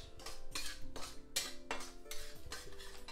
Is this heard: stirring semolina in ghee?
yes